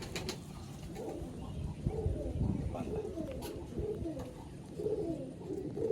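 Pigeons cooing inside a loft, soft repeated low coos in a steady rhythm from several birds close by, mixed with faint rustling and background voices.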